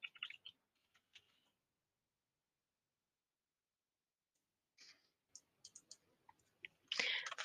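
A computer mouse clicks in a few quick, faint bursts with a long silent gap between them, close and dry, ending in a denser cluster of clicks.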